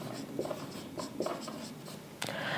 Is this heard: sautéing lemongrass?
no